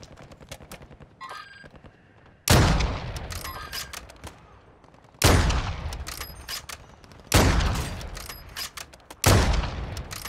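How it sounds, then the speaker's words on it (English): Gunfire in Call of Duty MW2 DMZ: four separate heavy bursts spaced a few seconds apart, each a loud sudden blast with a long echoing decay, with faint scattered shots between. "Where's that shooting come from?"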